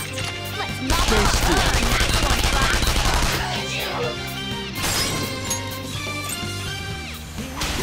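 Gunfire attack in the video game Persona 5 Royal: loud rapid bursts of shots and crashing hits over battle music, with game voices in the mix.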